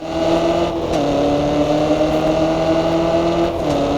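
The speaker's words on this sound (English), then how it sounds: "You can hear the road under me because it's like little pebbles and not pebbles but like stones" Continuous engine hum of a car in the video game Test Drive Unlimited Solar Crown with a gritty crunching rumble underneath from rolling over a stony road; steady and close, no voices.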